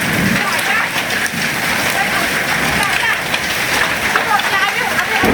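Heavy rain mixed with hail lashes down during a storm in Sukabumi, Indonesia, a loud, unbroken drumming hiss close by, with voices audible beneath the downpour.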